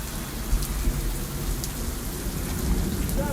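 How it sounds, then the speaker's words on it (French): Heavy rain pours steadily and densely with no breaks, a constant roaring hiss near at hand, along the Canal du Midi. "une grosse pluie battante"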